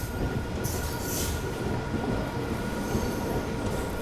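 Kosi Superfast Express pulls into Bokaro Steel City station with a continuous loud rolling rumble and faint squealing wheels, with no talk.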